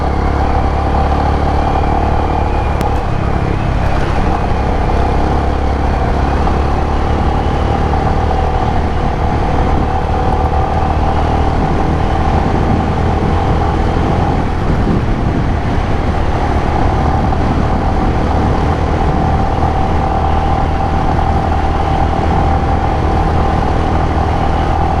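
A motorcycle without knobby tyres rides over slippery ground in Mongolia, its engine a steady loud drone with rumble and clatter throughout, continuous and close for the whole stretch.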